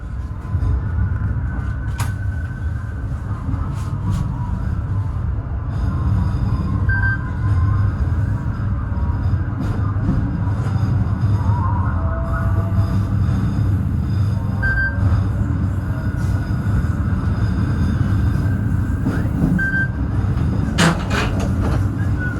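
A local economy train between Sidoarjo and Bojonegoro arrives at Tandes station with a loud, steady rumble, scattered metallic squeals and occasional clunks throughout, and no voices.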